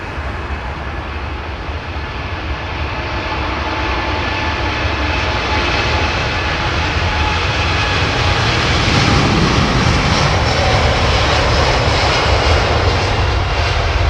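A Virgin jet airliner with Rolls-Royce Trent engines roars on takeoff at London Heathrow, a loud, sustained rumble that swells and thickens as the aircraft passes close by.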